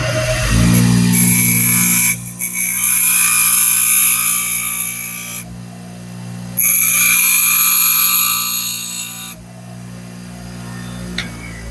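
A worn drill bit being sharpened on a powered grinder: two long, loud, high-pitched grinding passes separated by a short pause, over a steady motor hum that keeps running between them.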